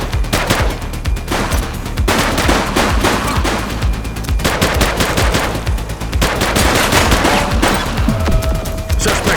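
Police gunfire in The Precinct, a video game: sustained loud automatic bursts and rapid shots rattle continuously for the whole stretch, dense and close with heavy booming low end and no talking over it.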